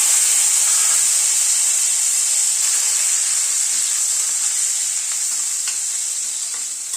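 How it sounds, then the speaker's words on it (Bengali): Small cubes of boiled potato fry in a pan with a steady, loud, close sizzle and hiss that runs the whole time, with light stirring scrapes and faint pops, no voices. "আলুটাকে মিনিট 2 একটুখানি ভেজে নিলাম"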